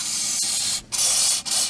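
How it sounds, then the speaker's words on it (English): A can of rust cure lubricant sprays onto the lip of a rear wheel bearing on a Saturn Vue AWD. The hiss is loud and close, in three bursts separated by short pauses. "And I'm going to spray it."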